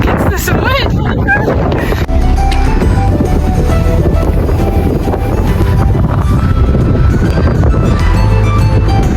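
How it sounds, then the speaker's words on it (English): Strong gusty wind buffets the microphone outdoors in a small rainy Swiss village near vineyards, a loud continuous roar and rumble throughout with brief rustling early on. "I'm fighting for my life against this wind."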